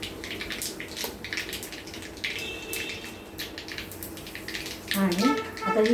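Cumin, mustard seeds, asafoetida and curry leaves sizzle in hot ghee, a soft steady crackle and spatter at close range, with a brief voice near the end.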